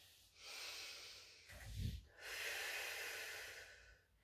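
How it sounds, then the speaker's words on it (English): Slow breaths drawn in and let out during a Pilates mat workout, a long breathy inhale, a brief heavier push of air, then another sustained exhale, close and fairly soft with no talking. "Inhale together. And exhale away."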